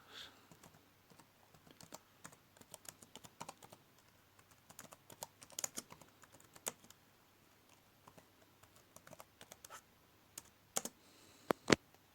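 Keys typed on a computer keyboard, a scattered run of quiet clicks and taps with a few sharper, louder strokes near the end, alone in a hushed room.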